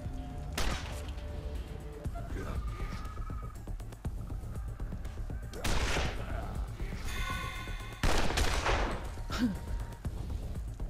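Gunfire in Wasteland 2: a few separate bursts of shots and thumps, one near the start and heavier ones around the middle and end, over a constant game soundscape with music.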